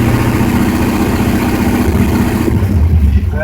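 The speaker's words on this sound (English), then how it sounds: "Ramp the engine up a little bit," A 1962 Jeep FleetVan engine runs loud and close, a rough low idle that rises in pitch as the revs climb toward the end.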